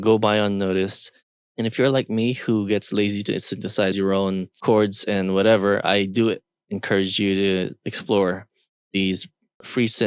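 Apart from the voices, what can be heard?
No everyday noise stands out behind the speech.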